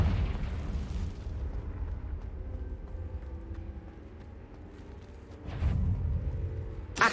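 In Hogwarts Legacy, the Confringo fire spell sets off booming explosions in the game. One heavy blast opens the clip, a rumbling tail follows, and a second burst comes near the end.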